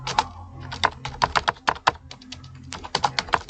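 Close keystrokes on a computer keyboard while entering text in Microsoft Word, coming in quick irregular bursts with short pauses between them and no voices.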